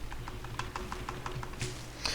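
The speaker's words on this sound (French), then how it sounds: "comme mon clavier est proche du micro, du coup vous risquez d'entendre beaucoup les touches" Computer keyboard keys clatter right beside the microphone during an ARK gaming session, a quiet, irregular run of crisp taps and clicks with a louder keystroke near the end.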